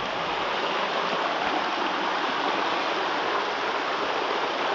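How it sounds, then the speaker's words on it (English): Mill Creek rushing over a run of waterfalls, a steady loud roar of tumbling water that fills the whole clip without a break, heard from close by the bank with no voices. "This is Milk Creek, all full of waterfalls."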